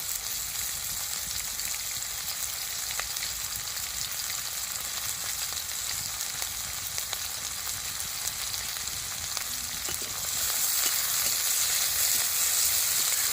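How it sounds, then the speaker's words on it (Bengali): Chopped onions and slit green chillies fry in hot oil with a continuous, even sizzle close by. The sizzle grows slightly louder near the end, and no one speaks. "তেলটা গরম হয়ে গেছে, কুচিয়ে রাখা পেঁয়াজটা আমি দিয়ে দিচ্ছি। সঙ্গে কয়েকটা কাঁচা লঙ্কা চেরা দিয়ে দিচ্ছি।"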